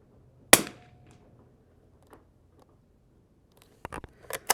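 A single sharp Winchester 52B rifle shot cracks at close range during 100-yard accuracy shooting from a Ransom Rest, then rings out and decays, followed later by a few quieter clicks and clatters of handling.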